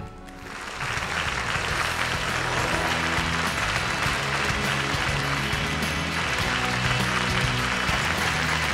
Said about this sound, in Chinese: 让我们用热烈的掌声有请杨光斌。